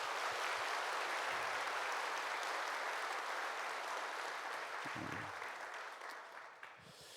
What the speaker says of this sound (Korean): 카페에서 수고하는 모든 교사들과 헌신자들을 위해서 따뜻하게 박수 한번 하겠습니다.